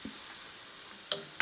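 Food frying in a pan on the stove, a soft, steady sizzle at low level broken by a few sharp clinks or stirring taps near the end, with no talking.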